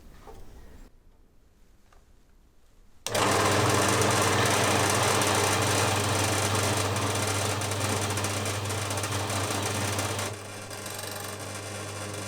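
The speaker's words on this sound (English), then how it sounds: "So I'll try and cut most of that off on the bandsaw." A bandsaw cuts metal for a Philip Duclos engine base in a home machine shop, a loud steady grinding whine with a low motor hum that starts after a quiet lead-in, holds for several seconds, then drops back.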